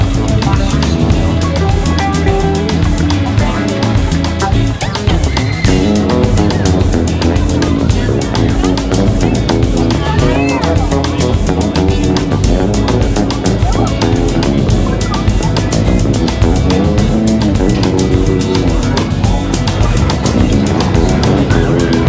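A ride on the Joker roller coaster at Six Flags New England, with loud, continuous rumbling and wind roar from start to finish and a dense, steady wash of noise.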